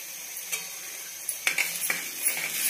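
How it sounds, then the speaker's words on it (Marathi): A spoon stirs red chili sauce into a curry in a pan, giving a faint sizzle with a few light scraping clinks spread across the moment. "छान मिक्स करायचं याला"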